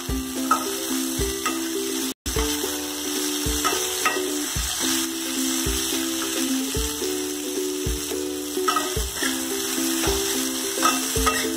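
Katla fish with slit green chillies frying steadily in a pan, a continuous close sizzle broken by regular scraping stirs and clinks of the spatula, with a brief dropout partway through.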